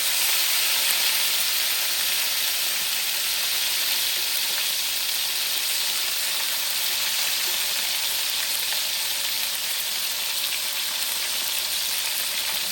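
Ground spice paste sizzles and fries with browned garlic in a pan, a steady close hiss that holds evenly throughout with no one speaking.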